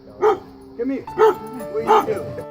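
A dog barks at its owner during a reunion after the owner's hospital stay, giving about three short, close yelping barks spaced roughly a second apart, with a faint whimpering tone between them.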